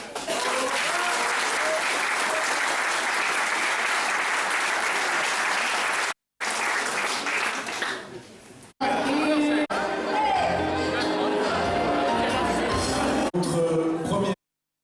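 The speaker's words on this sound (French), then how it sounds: "On peut encore l'applaudir." An audience applauds at the 175th anniversary celebration of a municipal brass band, loud sustained clapping mixed with crowd chatter that breaks off abruptly, then resumes with talking and cheering voices over it.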